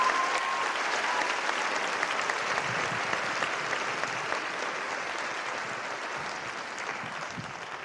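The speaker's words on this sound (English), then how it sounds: "Let's give her another round of applause." Sustained audience applause fills a high school senior night event, a steady dense wash of clapping from a large crowd that holds at an even level for the whole stretch with no talk over it.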